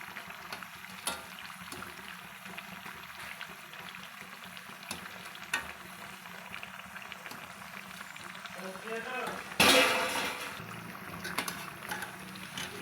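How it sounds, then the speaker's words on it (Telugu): Corn fritters (garelu) deep-frying in hot oil, a steady soft sizzle running throughout with a brief louder crackling burst near the end. "మంచిగా గోల్డెన్ బ్రౌన్ కలర్ వచ్చేదాక కాల్చుకోవాలండి ఇట్లా వేగనియాలి నూనెలో"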